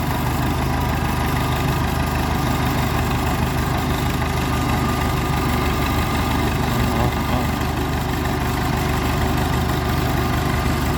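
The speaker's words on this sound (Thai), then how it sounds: "เร่งเครื่องครับ" An engine is revved steadily and loudly for the whole stretch, a continuous low rumble with constant vibration and no voices.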